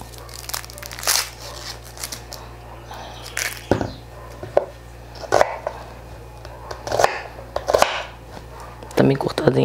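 A knife chops half an onion into small squares on a cutting board, sharp irregular knocks and crunchy cuts in uneven bursts, close and fairly loud, with a steady low hum beneath.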